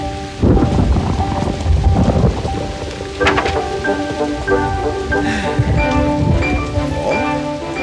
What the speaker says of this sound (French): il pleut à grosses gouttes.